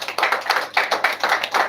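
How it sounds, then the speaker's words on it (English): Applause from an audience at a press conference, a short burst of quick, distinct hand claps repeating in a steady rhythm, close and clear with no talk over it. "Please give them a round of applause."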